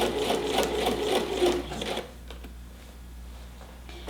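A sewing machine runs a long basting stitch along a 5/8 inch seam, a steady, close mechanical whirr for about two seconds before it stops and leaves a quiet hum.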